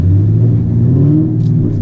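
A full bolt-on 2016 Chevrolet Camaro SS idles close by in track mode with a loud, deep, steady engine rumble that wavers slightly in pitch.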